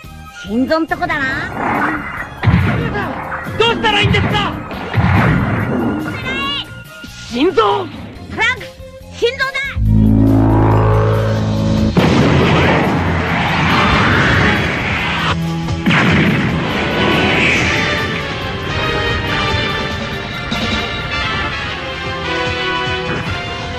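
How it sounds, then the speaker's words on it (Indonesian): A loud Dragon Ball anime energy blast, a huge laser fired at Trunks, surges into a big rumbling explosion destroying a palace after excited voices, with crashing debris and a roaring wash that fades slowly. "Lord Sama malah menembakkan sebuah tembakan laser yang sangat besar kepada Trunks hingga menghancurkan istana tersebut."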